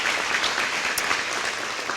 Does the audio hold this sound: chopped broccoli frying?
no